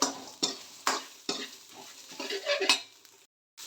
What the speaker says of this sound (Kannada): ಧನಿಯಾ ಒಂದು ಮೆಣಸಿನ್ಕಾಯಿ ಮತ್ತು ಈರುಳ್ಳಿ ಏನಿದೆ ಅದನ್ನು ಫಸ್ಟು ಫ್ರೈ ಮಾಡ್ಕೊತಾ ಇದ್ದೀನಿ